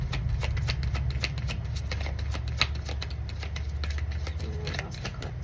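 Large oversized tarot cards are shuffled by hand, a dense run of rapid riffling flicks and slaps that continues steadily up close with no talking.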